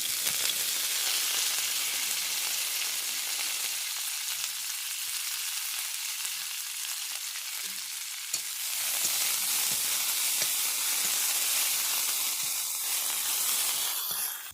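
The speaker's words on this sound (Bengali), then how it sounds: "এবার এখানে আমি ধনেপাতাগুলো হালকা ভেজে নেব।" Coriander leaves lightly frying in a pan of oil while hilsa tail bharta is being made, giving a loud, steady sizzle and crackle that runs unbroken throughout with no talking.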